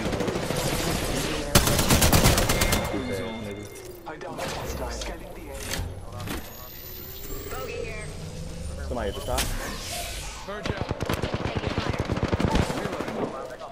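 Video game gunfire in a shooter match, with repeated bursts of rapid automatic shots, some close and loud, others farther off, mixed with vehicle rumble and in-game voice callouts.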